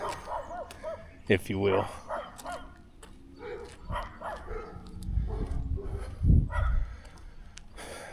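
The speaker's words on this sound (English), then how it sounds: "Being attacked by dogs." Dogs barking and yipping during an attack, with sharp bursts and whimpers scattered through steady talk, loudest near the middle and end.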